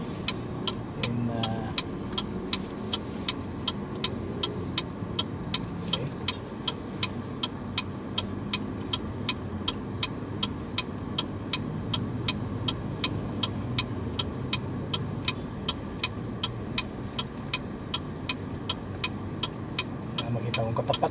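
Steady road noise and low drone from a 2025 BYD Shark 6 DMO AWD plug-in hybrid pickup truck on the move, with a regular ticking, likely a turn signal, running throughout and speech over it.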